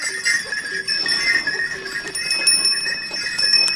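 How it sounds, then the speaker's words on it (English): Many bells ring continuously from pack donkeys walking unattended along a Himalayan trail near Everest, carrying cylinders. The dense, steady jingling is close and loud, with faint animal sounds in the background. "But why do they need so many bells?"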